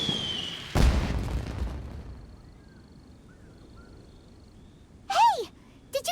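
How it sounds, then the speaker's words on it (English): Explosion or fireworks in the video game Genshin Impact, one sharp loud boom that trails off, followed later by a couple of brief high chirping bursts. "Did you hear that explosion? Maybe it was fireworks."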